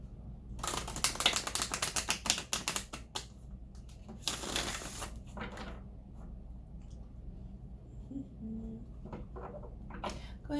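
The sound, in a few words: shuffling tarot cards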